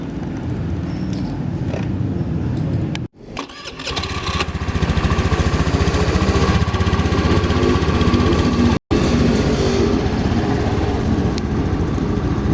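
A small trail-style motorbike with round classic mirrors and 12-inch wheels starts up, cuts out briefly, then revs and runs steadily, loud and close, with another short break before it carries on.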